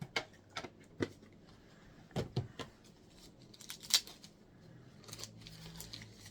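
A small plastic bag holding a Super Everdrive X5 flash cart crinkles and rustles as it is opened, with sparse soft crackles and a few sharper ticks against a quiet room.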